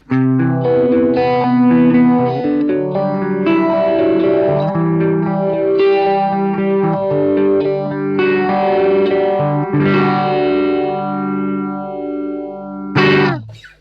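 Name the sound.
electric guitar through phaser pedal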